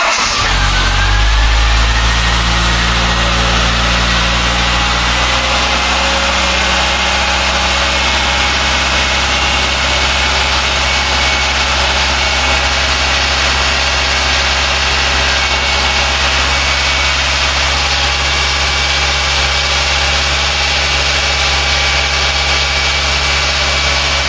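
A Ford Cortina Mk3 engine runs at idle after a power steering pump repair, starting with a rising rev then settling into a loud, steady close-up hum with no talk.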